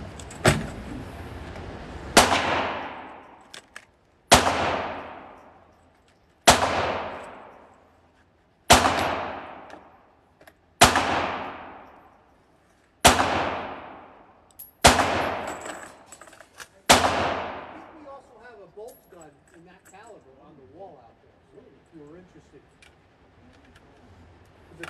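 Eight sharp AR rifle shots crack at a shooting range, roughly two seconds apart, each one loud and close with a fading ring, followed by quieter talk.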